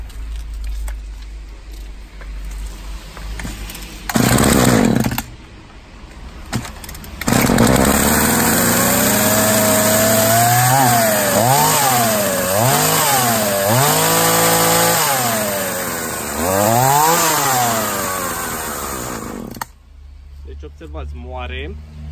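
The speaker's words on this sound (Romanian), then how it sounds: "vom porni prima oară acest 236, ce pornește mai greu și nu și ține relantiul" A model 236 chainsaw that starts hard and won't hold idle gets pulled a few times before catching, then runs loud and close with repeated uneven revving swells before cutting out; someone speaks briefly in between.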